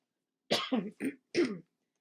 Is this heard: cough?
yes